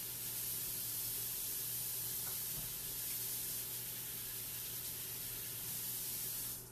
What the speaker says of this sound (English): We're going to wash our hands